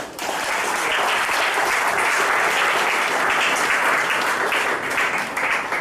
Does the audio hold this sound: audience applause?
yes